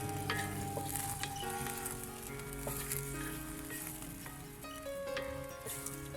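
Onions sautéing in a pan over a real open wood fire while being stirred, a steady close sizzle with scraping utensil clatter and crackle throughout, no voices.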